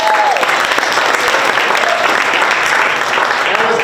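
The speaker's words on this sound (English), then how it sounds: "please give us a round of applause" Loud, close applause from guests at a charity golf tournament reception, a continuous wash of clapping with faint voices mixed in.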